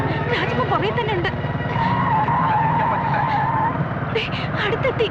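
A car speeding through a comic film chase scene, tires skidding and squealing over a revving engine, loud and continuous, with people talking and shouting over it.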